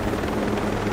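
Helicopter in the video game Ghost Recon Breakpoint, a continuous close rotor thrum with a rapid pulsing beat and engine whine, steady and loud with no talk.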